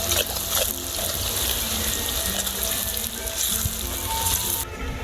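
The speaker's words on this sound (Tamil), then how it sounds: "நசுக்கின பூண்டு போடுறோம்" Crushed garlic frying in hot oil for a village-style bitter melon roast: a loud, steady close sizzle with brief stirring clinks, running alone without speech.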